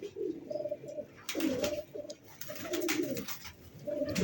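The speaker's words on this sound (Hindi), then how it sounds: "ऊपर से अपने कबूतर निकल के आ रहे हैं" Pigeons cooing close by in repeated soft throaty phrases, with a fluttering burst of wingbeats partway through as birds are released to fly.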